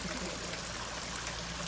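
Water rushing down a waterfall beside a hiking path on the Appalachian Trail, a steady broadband splashing roar that stays even and close throughout, with no voices.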